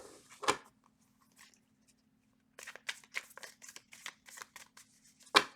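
Tarot cards are shuffled by hand, first in a single crisp riffle, then in a quick run of close, papery flicks and snaps after a quiet pause.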